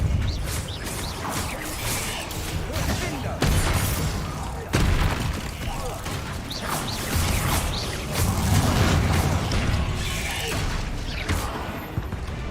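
Spell blasts from Hogwarts Legacy, cast in combat against spiders, come as repeated loud bursts, booms and crackling impacts with shattering debris, dense and continuous through the whole stretch.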